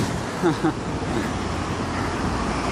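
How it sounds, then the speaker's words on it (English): Steady road traffic roars in a broad, continuous wash with a low rumble, fairly loud throughout, and a brief murmur of voices near the start. "probably can't hear me that well because, you know, traffic and everything."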